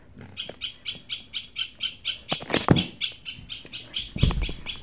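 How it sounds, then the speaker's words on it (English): Electronic great spotted woodpecker call from a Wild Republic Audubon plush toy, a rhythmic run of evenly spaced tinny chirps repeating steadily, with handling knocks and rustles breaking in partway and near the end. "Great spotted woodpecker."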